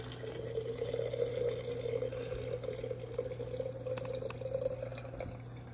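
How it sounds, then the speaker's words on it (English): Bacon grease poured from a frying pan into a jar, a steady, close liquid trickle that holds for several seconds without a break, with no talking. "So I'm just going to go ahead and pour in the majority of this bacon grease and use it for cooking in the future."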